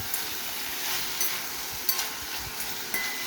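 Green chillies fry in a pan while being stirred, a steady bright sizzle with a few soft scraping and tapping stirs at close range and no voices.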